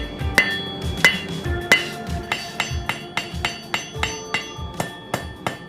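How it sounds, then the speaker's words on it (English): Hand hammer striking a forge-heated steel stock bar on an anvil to flatten it, about a dozen loud, evenly spaced ringing blows close by, with no talk. "So we got a stock bar in the forge, going to flatten it out first and then wrap it around to make the loop shape."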